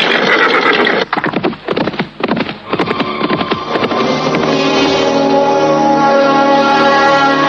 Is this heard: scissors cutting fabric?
no